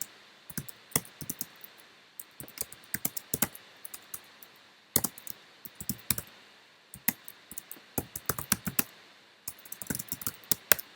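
Computer keyboard typing heard alone at close range, with bursts of rapid key clicks separated by short pauses throughout.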